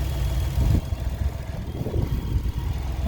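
A 2004 Toyota Sienna engine idles after repair of a short-circuited oxygen sensor, giving a low, steady rumble close by with small fluctuations and no revving.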